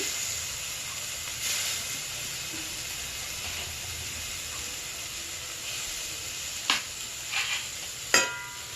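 Tomato pieces sizzle in hot oil in a frying pan, a steady soft hiss with a few sharp pops and clatters toward the end, heard alone without speech.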